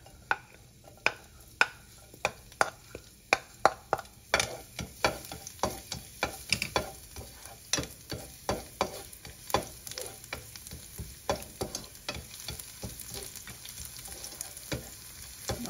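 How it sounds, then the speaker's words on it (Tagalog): Garlic and onion saute in a pan for beef giniling, with a steady sizzle and many sharp spoon-and-pan taps and stirring scrapes, which are quick and distinct at first and then denser and softer. "bigisa muna tayo. Bawang sibuyas."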